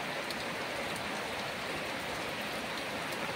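Heavy, steady rain pours down evenly with no wind or thunder, a dense, continuous hiss of drops on surfaces that stays constant throughout.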